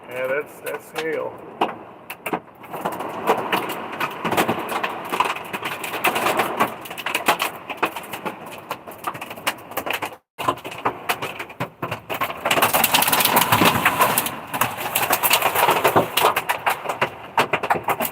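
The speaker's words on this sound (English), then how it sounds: "Yeah, that's hail." Hail and heavy rain in a severe storm in Frederick, Maryland, hammering a truck: a continuous loud clatter of impacts that briefly drops out and then returns harder and denser, with a voice talking over it.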